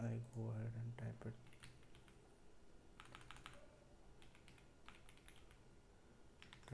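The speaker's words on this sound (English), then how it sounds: "Now let's type in something." Someone types on a computer keyboard in close, clattering bursts of keystrokes with short pauses between them. A voice speaks briefly at the start.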